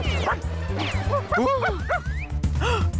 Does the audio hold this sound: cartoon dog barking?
yes